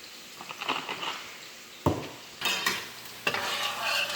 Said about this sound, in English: the onions are starting to get smaller and turning color at the same time